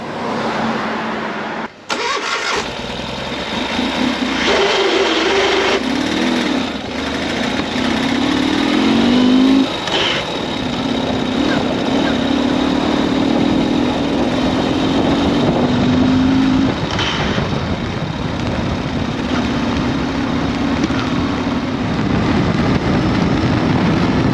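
A Ural sidecar motorcycle engine with a faulty clutch runs steadily and loudly up close, with a rough mechanical rattle and grinding as the revs rise and fall.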